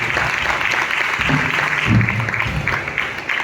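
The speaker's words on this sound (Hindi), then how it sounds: "ताली मारो, धन्यवाद करो।" A church congregation bursts into hand clapping during a Christmas service sermon, a dense burst of applause with a preacher's voice faintly mixed in around it.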